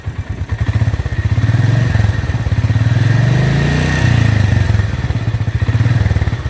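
A Royal Enfield Meteor 350 single-cylinder motorcycle engine pulses steadily at idle, then rises in pitch and loudness as the throttle is blipped and settles back down, close and loud with a thudding beat.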